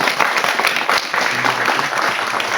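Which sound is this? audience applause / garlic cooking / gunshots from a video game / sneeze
audience applause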